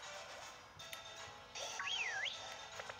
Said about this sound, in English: Think I whistled.